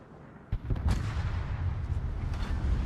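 Torpedo hits in World of Warships strike in quick succession as booming low thuds, one sharp burst followed by a sustained rumbling roar of impacts at moderate loudness, with no voices.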